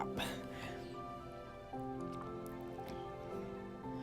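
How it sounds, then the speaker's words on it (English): Acrylic paint, including blue for a galaxy-style pour, is poured onto the surface, giving soft wet drips and squishy splats over a steady tonal hum, close and fairly quiet. "So I'm just gonna pour some more on top."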